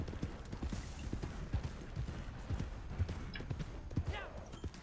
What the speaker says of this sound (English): The horse is getting tired of running.